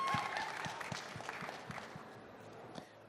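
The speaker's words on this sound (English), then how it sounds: "Can we please give him a round of applause?" Faint, fairly sparse applause from a conference audience for a panelist at an industry panel on brokers, with distinct single claps close by over a soft background of clapping that tapers off.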